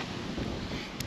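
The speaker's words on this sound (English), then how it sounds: "Excuse the wind, it is a windy day." Steady, rushing wind buffets the microphone with a low, rumbling roar, continuous and fairly loud, with no voices.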